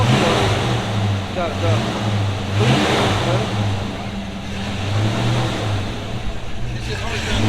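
A project car's engine running and revving on the gas, a steady mid-pitched drone that swells and eases, heard under people talking close by.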